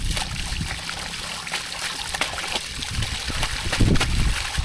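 Water trickles and splashes steadily as wet, salt-soaked shoes are rinsed after a swim in the sea, a close and continuous flow that swells slightly toward the end, with no voices.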